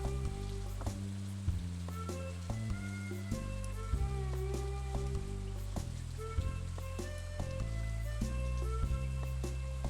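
Rain falls in the autumn town of the farming game Stardew Valley as a soft, continuous hiss beneath looping in-game background music with plucked notes.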